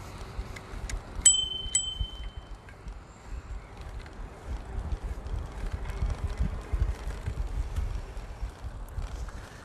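A bright bicycle bell on an e-bike gives a couple of quick dings during an evening ride through Yandina, standing out above steady wind and rolling road noise.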